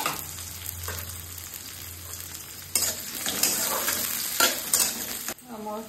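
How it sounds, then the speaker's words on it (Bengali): Sliced onions with fenugreek, fennel and nigella seeds fry in hot oil with a continuous bright sizzle, broken by several sharp scraping stirs of a spatula against the pan. "এবার পেঁয়াজ দিয়ে দেবো"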